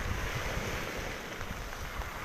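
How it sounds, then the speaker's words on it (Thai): Rough sea surf builds as tropical storm Pabuk approaches the Thai coast, a steady, dense wash of wave noise mixed with wind rumble, with no voices. "คลื่นเริ่มเยอะขึ้นแล้วครับ"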